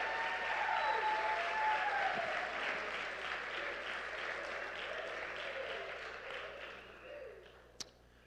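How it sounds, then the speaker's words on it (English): Audience applause at an awards ceremony, a dense sustained clapping that fills the space for several seconds, then gradually thins and fades out, with some voices and cheers mixed in the crowd. "I thought I heard some claps, yeah."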